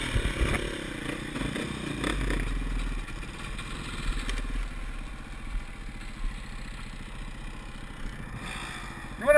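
A KTM 500 EXC dirt bike is ridden around Tucson, Arizona, with a continuous close engine rumble and clattery mechanical noise, some wind buffeting, and small surges in level throughout.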